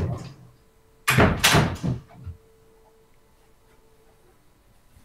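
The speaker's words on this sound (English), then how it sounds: "Gary, I'm going to shut my door here" A home office door is pushed shut, giving a single loud close-up thud with a short rattle, then quiet room tone with a faint steady hum.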